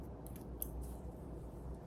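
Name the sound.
scissors cutting hair under a hair system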